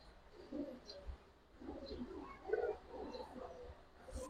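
Giribaz high-flyer racing pigeons cooing softly, a few faint, low murmuring coos scattered across a quiet stretch.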